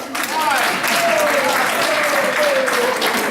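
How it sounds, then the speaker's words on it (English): Audience applause after a city council member is introduced at a press conference, a steady dense wash of clapping filling the room, with a faint voice briefly rising over it. "Give him a big round of applause for all that he has done."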